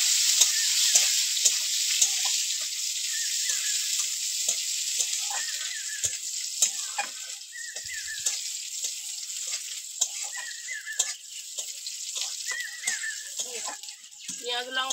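Onion and dried chilli frying in a pan for chikni saag dal, with a spoon stirring and scraping through it: a steady, bright hiss of sizzling oil with clinks and scrapes throughout, near and continuous, while a voice talks faintly at times.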